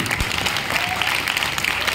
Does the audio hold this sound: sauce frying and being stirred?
no